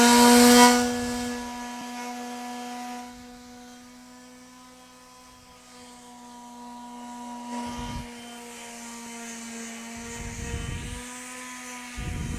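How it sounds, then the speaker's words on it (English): A palm sander with 150-grit paper works over a wooden piece, its motor giving a steady, close, high whine with a few rougher bursts of grinding against the wood. "at the end, you could take your palm sander"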